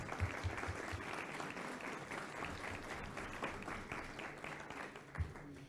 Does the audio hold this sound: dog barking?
no